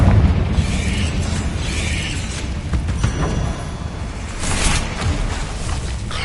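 Confringo fire blast spell cast in Hogwarts Legacy, a sustained roaring explosive rush lasting several seconds, with a second burst swelling near the end, loud and dense with no voices.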